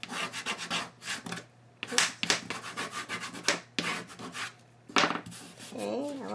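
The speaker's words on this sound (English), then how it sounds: "want to give it a good burnish. And burnish this down." Paper edges on a mini album cover are burnished with quick, close rubbing strokes, a series of scratchy bursts with short pauses, ending in a brief squeaky rub.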